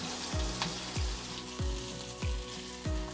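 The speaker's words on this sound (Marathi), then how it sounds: "मिरच्या चांगल्या भाजून घ्यायच्या बघा, हलवून हलवून." Green chillies roast in a hot kadhai, giving a steady crackling sizzle broken by five regular scraping stirs about every 0.6 seconds, close and fairly quiet with no voices.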